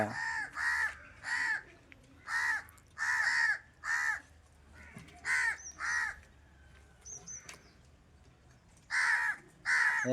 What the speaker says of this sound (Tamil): காக்கா வந்து கத்திட்டு கிடக்கு.